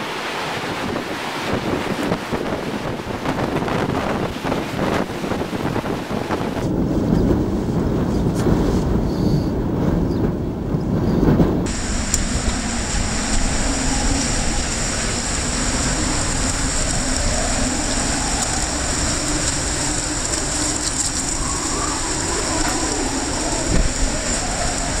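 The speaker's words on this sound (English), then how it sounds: "Wind shifted 180 degrees." Hurricane Charley's winds battering Punta Gorda, Florida, in 2004, a loud continuous roar and rush of gusts close to the microphone, with a sudden change in tone partway through and no talking.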